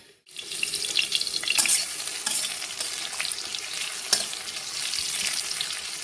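Onions sizzling and frying in fish oil with steady crackling hiss, occasional stirring clatter, close and fairly loud throughout, no speech.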